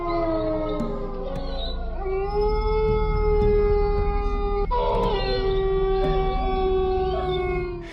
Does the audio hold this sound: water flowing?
no